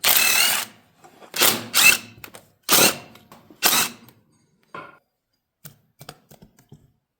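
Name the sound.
removing inspection cover from John Deere A crankcase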